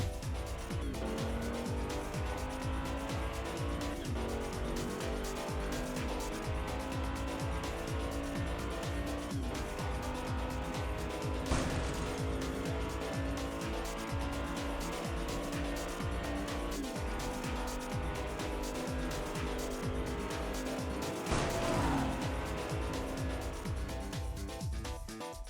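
Hot Wheels toy cars race down a track in an elimination tournament, their small plastic wheels giving a continuous rattling rumble throughout, with a couple of sharper clacks along the way.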